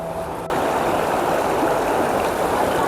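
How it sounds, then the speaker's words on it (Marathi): A river rushes over rocks near the Walheri waterfall, a steady broadband roar of flowing water that holds loud and continuous throughout, with a slight rise after the first half second and no voices. "अशी काही नदी बघायला मिळते आपल्याला."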